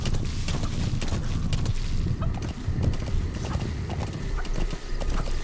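A horse's hooves clip-clop steadily in the video game Metal Gear Solid V, a close, continuous rhythm of hoof strikes over a low ambient bed, with no speech.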